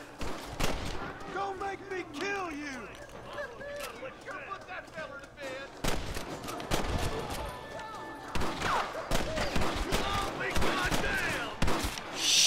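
Shotgun blasts and other gunfire in Red Dead Redemption, with repeated sharp shots scattered across a busy game mix while someone talks over it.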